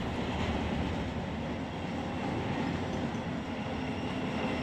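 A train runs steadily in the Run 8 Train Simulator v3 game, a continuous dense rumble of wheels and engine holding even and fairly loud throughout, with no talk.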